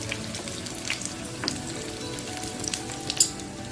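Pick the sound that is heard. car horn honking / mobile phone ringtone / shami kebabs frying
shami kebabs frying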